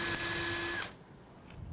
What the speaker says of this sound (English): You drill a 1/4 inch deep hole.